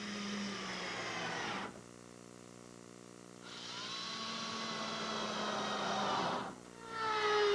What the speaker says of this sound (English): to trim off any excess plywood, I'm simply using my laminate trimmer